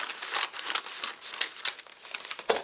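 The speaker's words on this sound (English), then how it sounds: "Is I cut off the excess bag because I don't really need it." Crinkling and rustling of a plastic bag as excess is cut away during trail food prep, a close, irregular series of crackles with a sharper snip near the end.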